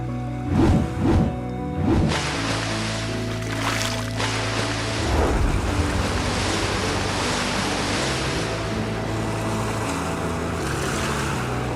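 Ocean waves surge and wash in a continuous rushing roar with wind, loud and close, and a few heavier swells breaking near the start of a narrated legend of Nusakambangan island.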